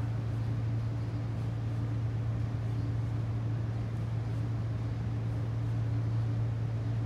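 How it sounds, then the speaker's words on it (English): A room heater runs steadily in the background, a constant low hum with a broad airy hiss that holds at an even level from start to finish, with no talk. "The heater just went on. Sorry about that, if you can hear the noise in the background."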